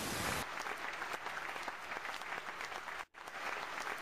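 A studio audience at a talk show applauds to welcome a guest onto the stage, a loud, continuous wash of clapping that runs the whole time with one brief dropout near the end.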